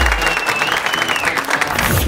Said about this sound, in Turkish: Kocaman alkışlar Taner'e gelsin